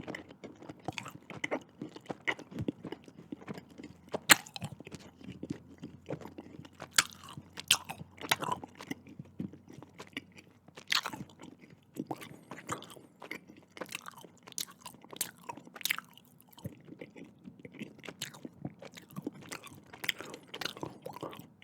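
Close, quiet chewing of chewy Mike and Ike fruit candies, with soft wet crunches and bites repeating irregularly throughout, alone without talk.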